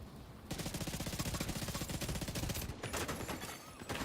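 Sustained automatic gunfire rattles through a video game battle, a loud, steady stream of rapid shots that breaks off briefly near the end before resuming.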